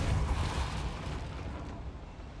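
The Depulso spell cast in Hogwarts Legacy, a short low whooshing blast that bursts loudly at the start and fades over about two seconds.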